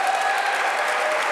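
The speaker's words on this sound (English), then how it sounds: "Yes, let's cheer for that." Studio audience applause, a brief dense burst of clapping throughout, steady and fairly loud with no talk over it.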